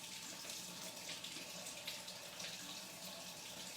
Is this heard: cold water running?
yes